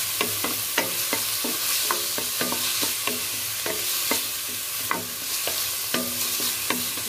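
Marinated beef with lemongrass sizzles in a hot pan, a continuous frying hiss punctuated by regular utensil clinks and scrapes as it is stirred.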